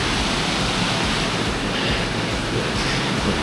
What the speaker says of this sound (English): Just the river right there.